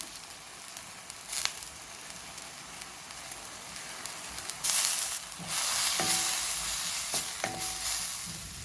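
Sliced onion sautéing with ginger garlic paste and green chili in a pan, a soft crackling sizzle that swells into louder hissing bursts as ingredients hit the oil, with a few stirring taps.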